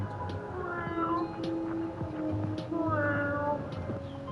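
A voice imitates a cat, giving a series of drawn-out, wavering meows close up, with short pauses between them.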